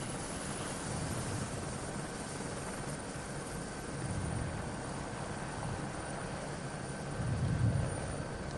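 A helicopter drones steadily overhead at a cycling race, the Faun-Ardèche Classic, its broadband rotor and engine roar continuous and fairly distant, swelling slightly around the middle and again near the end.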